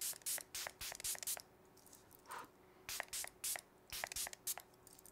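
Milani Make It Last setting spray mists out in a run of short, hissing bursts, about a dozen quick sprays close to the mic with brief pauses between them, quiet overall.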